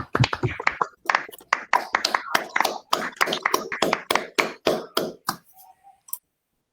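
A short run of sharp, evenly spaced claps at an awards ceremony, close and fairly loud, slowing and stopping after about six seconds, followed by a faint brief tone.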